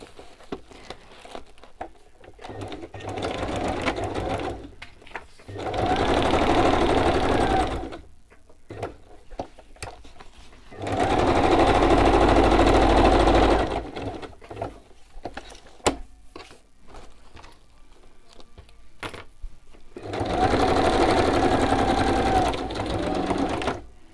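A sewing machine stitches thread through a craft project in three separate runs of several seconds each, loud and near, with quiet handling of fabric in between.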